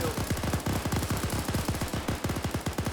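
Rapid automatic gunfire in the military shooter Arma 3 rattles off in long sustained bursts of sharp, close, evenly spaced shots with no pause and no voices.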